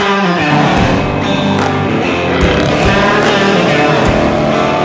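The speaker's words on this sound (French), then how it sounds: "c'est un vrai 5 litres V8 digne de son nom, montre que c'est une vraie muscle car" A Ford Mustang GT with a 5-litre V8 accelerates hard on a road in the Vaud countryside, its loud, continuous engine roar rising steadily and close by, with no talking.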